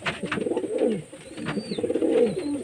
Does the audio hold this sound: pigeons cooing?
yes